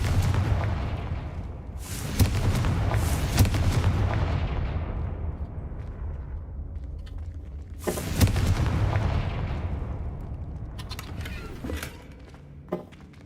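Confringo blasting spells in Hogwarts Legacy burst out in loud booming explosions, one cluster early and another later, each fading into rumbling decay, followed by a few sharper crackling pops near the end.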